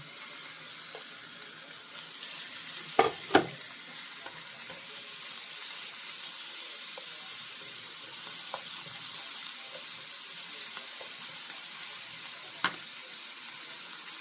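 Beef fries in a little oil for sukiyaki with a continuous, quiet hiss and a few sharp pops near the start.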